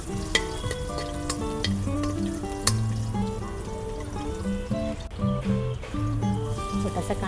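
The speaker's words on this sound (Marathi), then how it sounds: "चला आता आपण आमटीसाठी फोडणी देऊया।" Crushed garlic and cumin seeds sizzle in hot oil for a Marathi amti tempering, a continuous close frying crackle with brief louder pops, over a steady tonal background.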